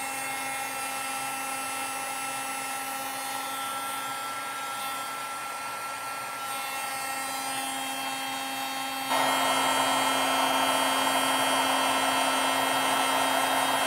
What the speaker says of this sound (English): So I'm going to heat up the heat tool.